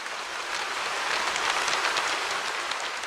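Gentle rain falls steadily, a soft, even hiss of countless drops pattering on surfaces, continuous and close with no voices or other sounds breaking through.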